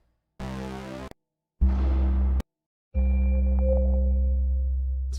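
Synth bass patches from Omnisphere sound banks, played as three separate sustained notes, each loud and harmonically rich, with short gaps between them and the last note ringing out with a slight decay. No talking.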